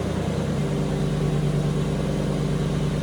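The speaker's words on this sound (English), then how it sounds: "a very light exhaust leak, and I'm pretty sure it is on the driver's side" A Lincoln Town Car idles with a very light exhaust leak on the driver's side, a steady, close, low engine drone with a faint ticking pulse and no voices.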